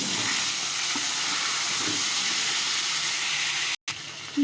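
Chillies and potatoes fry in hot oil tempered with radhuni, giving a loud, steady, close sizzle that runs throughout and cuts out briefly near the end.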